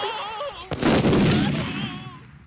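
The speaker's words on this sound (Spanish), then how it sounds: "Explotó." A loud cartoon explosion from The Simpsons bursts suddenly and roars with a broad rumble for over a second before fading, following a brief moment of voices.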